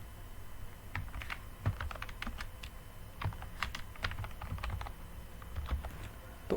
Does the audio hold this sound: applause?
no